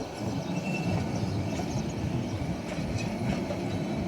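A long train moves through Cox's Bazar railway station with a steady rumble and faint rhythmic clatter of wheels, heard at moderate distance.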